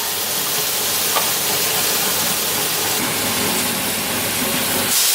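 Curry paste cooks in a hot pan with a steady, close, loud sizzling hiss that stays even throughout, with no talking.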